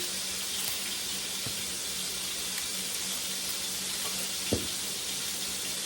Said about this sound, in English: I'll turn them a couple more times till I get them seared how I want them